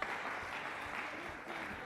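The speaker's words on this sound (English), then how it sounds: "Please give him a round of applause." Sustained applause from an audience at a Delta State Government event with the NDLEA, a steady dense wash of clapping without pause.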